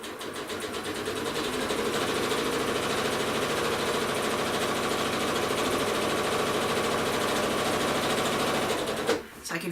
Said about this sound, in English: And now I'm going to stitch a 1/4 inch past the seam